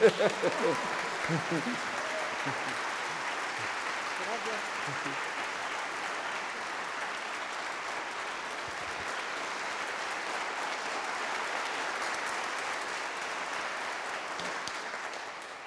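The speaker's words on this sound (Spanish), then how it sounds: "para el que también pido un aplauso" Sustained applause from a concert audience at a National Symphony Orchestra performance, a steady dense wash of clapping that holds evenly for the whole stretch and tapers slightly at the end, with brief talk at the start.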